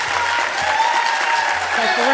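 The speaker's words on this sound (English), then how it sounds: "I've got to ask the audience to please refrain from clapping" Audience applause at a New Jersey Democratic gubernatorial primary debate, a sustained patter of many hands clapping with a low voice faintly underneath.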